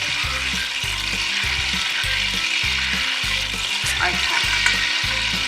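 Onion, leek and other chopped vegetables sizzle steadily in a hot pan for potato and leek soup, a loud continuous fry with stirring scrapes and a low rhythmic thumping underneath; a voice speaks one brief word.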